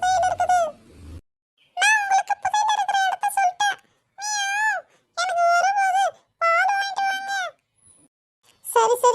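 A cat meows repeatedly in drawn-out, tonal cries, several separate calls spaced by short pauses, close and fairly loud, with no talk over them.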